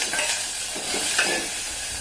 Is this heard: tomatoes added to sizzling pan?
yes